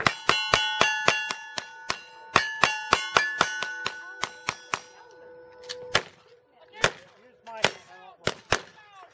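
Rifle shots ringing steel targets outdoors: a rapid string of sharp cracks with bright metallic clangs, closely spaced at first, then slowing to scattered single shots with lingering rings.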